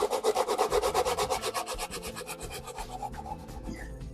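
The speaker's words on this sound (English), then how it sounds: "it is just making a mess of sanding stick" Rapid rhythmic rasping of a worn sanding stick scraping back and forth across a plastic scale model, loud and close, slowing and thinning toward the end.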